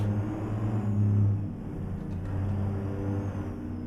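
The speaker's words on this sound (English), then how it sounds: "listen to that engine go" A heavy semi truck engine with an 18-speed transmission accelerates in American Truck Simulator, droning and revving steadily in a low rumble, with a faint high whine on top and no voices.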